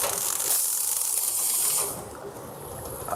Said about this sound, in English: Once the case is loaded, the operator would tilt the machine up.